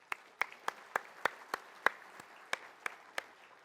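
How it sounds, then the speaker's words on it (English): Sparse, spaced claps ring out from a small audience at a regional transportation summit's opening general session, roughly a dozen distinct hand claps in an uneven rhythm over a quiet room hum. "Please help me give another warm round of applause for Dr."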